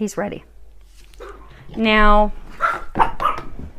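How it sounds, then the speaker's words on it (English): A dog gives a single short, sharp bark near the microphone, with someone talking before and after it in an indoor room. "So apologies for the mouthy dog."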